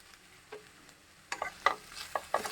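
A spoon stirs raw banana and dried prawn curry in a pan, with a few close scraping strokes over a soft sizzle, quiet at first and then a quicker run of louder scrapes, with no talk.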